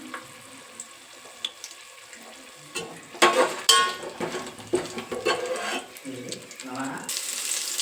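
Spices are lightly fried in a pan for prawn biryani. A low sizzle runs throughout, and scraping stirs and clinks grow busier partway through, all close up with no talking.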